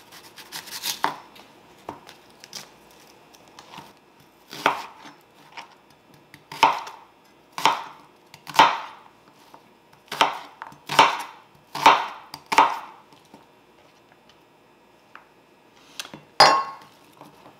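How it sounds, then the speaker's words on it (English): Knife chopping onion on a cutting board for a broccoli cheese and rice casserole, scattered light taps, then a run of firm, evenly spaced chops with pauses between, close and with no talk. "Okay, so this is chopped up enough."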